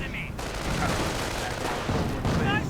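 Mortar and artillery fire in a strategy video game rumble as dense, overlapping booms and bursts, with a high whistling whine at the start and near the end.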